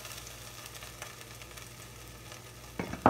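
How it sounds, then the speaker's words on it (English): Onions sauteing in a pan for a vegan pumpkin stew give off a steady, soft close sizzle, with a couple of louder clatters right at the end. "we're gonna start by just sauteing a little bit of onions"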